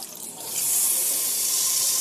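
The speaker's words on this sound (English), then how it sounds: "Then obviously open the taps, pump will start going." Caravan water tap running with its electric water pump working, a steady hiss of flowing water that swells to full strength after half a second and continues evenly, close by, with no talk.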